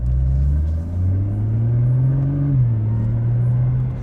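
A Nissan GT-R engine rumbles deeply while the car is being driven, a loud, close, continuous drone whose pitch rises and falls slightly with throttle changes.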